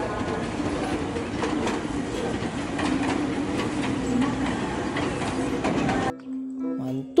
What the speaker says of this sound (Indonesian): Wow, ada kereta api lokomotif